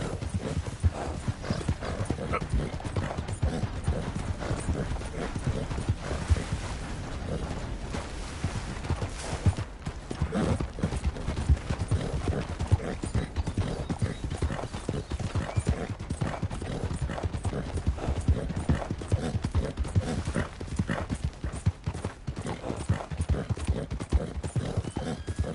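Horse hooves clip-clopping in a steady, continuous rhythm for the whole stretch, with an occasional whinny, from a horse ridden in Red Dead Redemption 2, close and loud with a dense game soundscape underneath.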